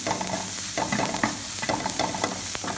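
Garlic fries in a pan with a continuous close sizzle, broken by a few rhythmic stirring scrapes, with no talking.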